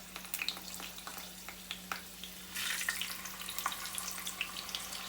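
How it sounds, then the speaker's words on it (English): Malabar unnakaya banana snacks fry in hot oil, a quiet, steady sizzle with scattered crackles and pops and a brief louder burst of bubbling partway through. Nobody speaks. "I'm only frying these many right now."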